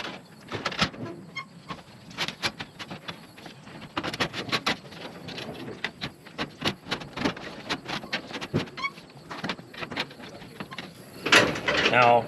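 Metal J-trim scrapes and rattles in short, irregular bursts as it is slid around a black vinyl window on a barndominium build, with clicks and louder rustling near the end and brief quiet gaps between.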